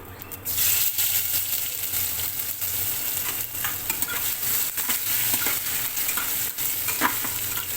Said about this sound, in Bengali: আলুটাকে কিছুটা সময় এভাবে নেড়েচেড়ে একটু ভেজে নেব তেলের সঙ্গে